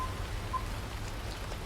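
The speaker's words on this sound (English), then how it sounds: "the game mechanic doesn't really seem to do very well with rain" Rain in the American Truck Simulator video game, a dense, even patter of drops on surfaces, steady and moderately loud for the whole stretch, under a low rumble with no speech.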